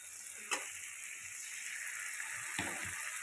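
Tomato paste frying in a spice mix of turmeric and salt for chital fish tel jhal, a quiet steady sizzle broken by a couple of brief clanks of a utensil against the pan.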